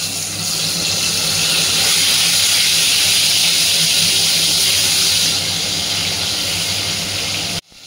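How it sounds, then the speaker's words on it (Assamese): Pieces frying in hot oil seasoned with turmeric give a loud, steady, hissing sizzle throughout, ending abruptly. "আৰু ব'লক এতিয়া পটাপট ভাজি লওঁ"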